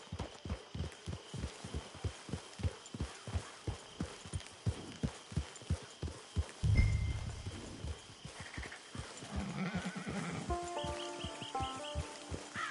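In Red Dead Redemption 2, a horse's hooves clip-clop in a steady, close rhythm. Partway through, the horse snorts and gives a short whinny, and faint ambient game sounds play underneath.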